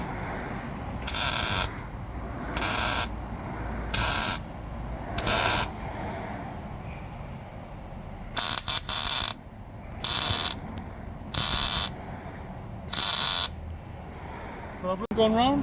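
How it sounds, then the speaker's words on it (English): Stitch welding a metal starter recoil cover for a 1982 Honda 185S ATC trike: nine short, evenly spaced buzzing arc bursts of about half a second each, separated by quiet gaps, loud and close. "I'm going to put a few stitch welds on the inside and then I'll weld it on the outside."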